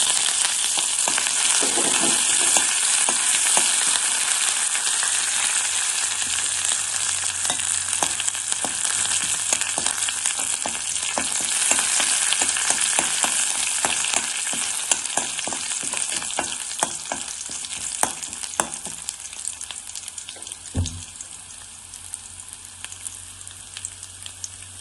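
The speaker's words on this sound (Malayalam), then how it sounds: "നമുക്കിതിലേക്ക് ഇഞ്ചിയും വെളുത്തുള്ളിയും കരിവേപ്പിലയും കൂടി ചേർത്ത് കൊടുക്കാം." Ginger, garlic and curry leaves frying in oil for mango pickle, a bright continuous sizzle with scattered crackles and stirring clicks. It eases off slightly toward the end, and a low thump sounds near the twenty-second mark.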